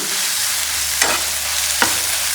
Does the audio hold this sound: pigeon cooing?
no